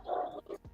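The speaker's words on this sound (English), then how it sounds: "That's my dog barking." A dog on a chicken farm gives a couple of short barks, close and moderately loud, in a brief burst.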